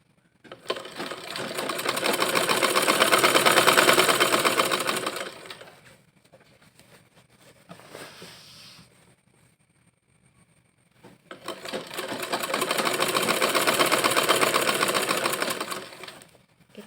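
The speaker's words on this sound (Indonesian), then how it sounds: "Kita jahit sampai bawah ya." Sewing machine stitching down a skirt seam, running in two long steady bursts of rapid whirring separated by a quiet pause with faint handling noise, loud and close with no talk.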